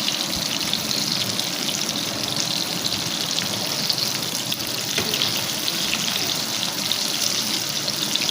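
Barracuda fish pieces fry in a pan over medium to low flame, giving a steady, close sizzle of hot oil that crackles evenly throughout with no pauses.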